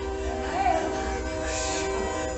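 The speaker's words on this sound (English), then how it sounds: "That's a train." A train passes with a continuous rumble and a faint horn, heard from a distance over a steady low hum during a church revival service.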